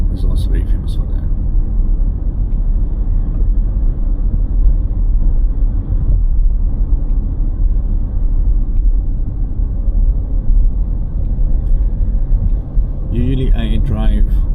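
Steady low car interior rumble while driving near Steinbach am Taunus, Germany, a constant droning road noise running throughout, with a voice talking over it.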